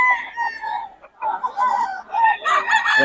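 Roosters crowing at a poultry yard in Pangasinan, several overlapping crows ringing out loud and close in long drawn calls, with a brief dip in the middle before more crowing.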